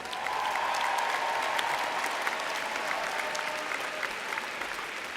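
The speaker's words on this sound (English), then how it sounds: "Let's give a round of applause for our PhD graduates." Sustained audience applause fills a commencement ceremony hall after PhD graduates are recognized, a dense, steady wash of many hands clapping at even loudness throughout, with a faint tonal hum running beneath.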